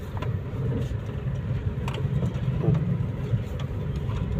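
Car driving slowly in second gear at about 20 km/h during a first driving lesson, a steady close engine hum and road rumble with a few faint clicks and rattles, no voices.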